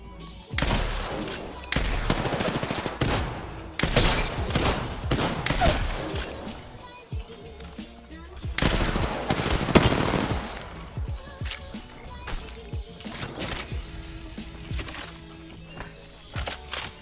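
Bursts of rapid automatic gunfire and single shots from the battle royale shooter Apex Legends, loud and close, with booming impacts and brief pauses between volleys.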